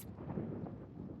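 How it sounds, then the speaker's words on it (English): A thunderstorm rumbles with a low, rolling thunder that sounds distant and steady for about a second, with no voices. "That sounds like a storm. Was that thunder?"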